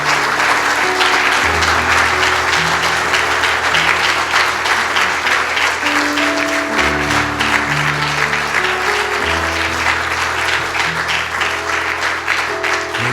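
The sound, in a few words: church congregation applause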